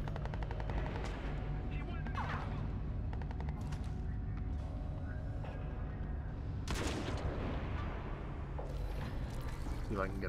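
Gunfire in the video game Crysis 3 during a sniping fight, with several sharp bursts and loud booming shots over a continuous, heavy game soundscape, close and forceful.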